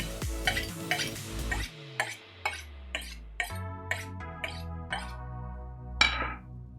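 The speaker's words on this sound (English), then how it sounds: "my knife is very sharp, but I want to make sure, so I'm going to hone it real quick" A chef's kitchen knife is honed on a honing steel in a series of about nine sharp metallic strokes, roughly one every half second, ringing and clear with no talking.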